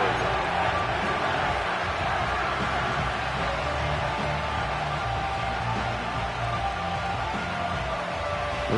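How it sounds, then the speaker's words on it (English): Football stadium crowd roaring loudly on a third down, a dense sustained wall of cheering and noise that stays at full volume throughout, with a commentator's voice faintly mixed in. "This crowd turning up the decibel level."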